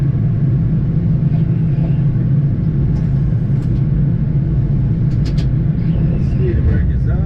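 A Boeing 787-9 slows on the runway under reverse thrust and braking, a loud, steady low roar and rumble heard from the cockpit with speech over it.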